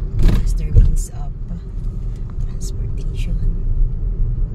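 A motorized tricycle rumbles past on a residential subdivision street, a steady low engine drone with brief louder swells near the start, with faint voices in the background.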